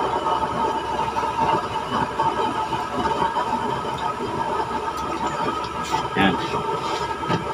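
A used-oil burner stove runs without its top cover, giving a loud, steady, rumbling roar throughout, with someone speaking briefly over it.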